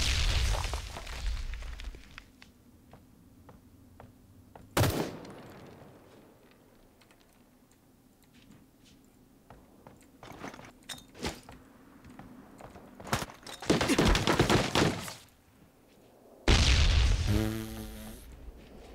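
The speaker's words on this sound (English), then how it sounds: "watch out for that nade, though. Watch out for that grenade." Grenades go off in the Ring of Elysium shooter on a winter map: several sharp booms scattered across the stretch, mixed in with loud keyboard typing clatter between blasts.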